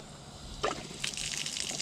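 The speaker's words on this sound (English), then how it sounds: "2 or 3 gallons of the antifreeze still in my water tank. And I'm going to flush it out." Water runs from the tap of an RV as antifreeze is flushed from the water tank, starting with a sudden gush and settling into a steady, close rush of flowing water.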